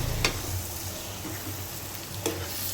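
Chili powder and coriander powder sizzle in hot oil in a pan for a brinjal curry, a steady close crackle broken by two brief scraping stirs, with no one speaking.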